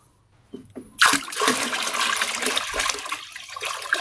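Water pours and splashes steadily during a full change of a betta fish tank's water, a loud continuous rushing gush that starts abruptly after a couple of soft knocks, with no talk.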